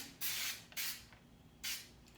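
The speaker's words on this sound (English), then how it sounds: "I'll take this American flag and some of this spray and spray it on there" Three short hissing bursts from a spray can, two close together and one after a pause, fairly quiet with nothing else around them.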